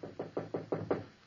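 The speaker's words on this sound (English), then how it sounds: "stood watching as he knocked on the door." Six steady knocks on a door, evenly spaced and close, played as a sound effect in an old-time radio drama, with no voices over them.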